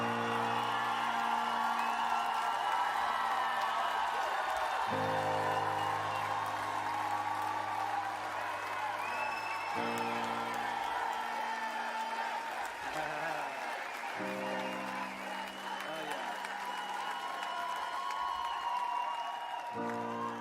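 A festival crowd at a Rock en Seine 2018 rock concert roars, cheers and applauds, sustained loud and dense over a steady musical drone, with whoops rising from the mass of people.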